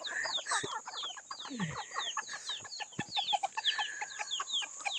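A flock of chickens being fed whole corn kernels cluck busily and close by, with dense, overlapping short calls and squawks in a quick, irregular chatter.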